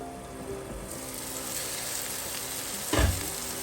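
Garlic, onion, tomato and spring onion sautéing under a lid in a pan give a steady soft sizzle, with a brief louder clatter near the end.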